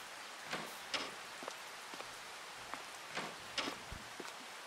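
Rain falls in the video game Farming Simulator 22 as a steady soft patter, with scattered sharper drops and light taps standing out over the hiss.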